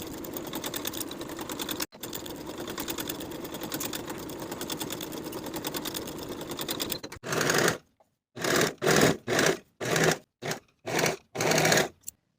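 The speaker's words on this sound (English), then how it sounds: "Now we'll sew these sleeves in place on both sides with a 3/8 inch seam allowance" Sewing machine stitching kimono robe sleeves to the bodice, a long continuous run of rapid needle chatter, then a series of short stop-start bursts with silent gaps, close and loud.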